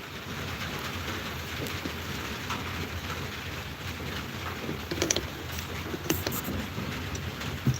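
Steady rain patters on a surface throughout, a dense continuous hiss with a few sharper drops near the end and no voices over it.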